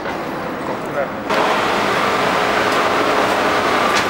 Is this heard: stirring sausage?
no